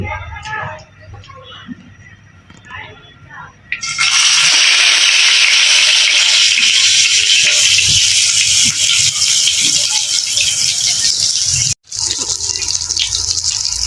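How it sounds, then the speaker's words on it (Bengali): Eggplant slices frying in boiling-hot oil in a wok for homestyle begun chop, a loud steady broadband sizzle that bursts in after quiet kitchen sounds and keeps hissing continuously, briefly cutting out near the end. "আমরা গরম তেলের ভিতরে দিয়ে দিছি এটা আস্তে আস্তে সিদ্ধ করছে"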